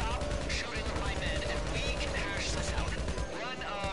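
Gunfire crackles in a shooter video game, dense rapid bursts of shots layered over one another under continuous voices talking.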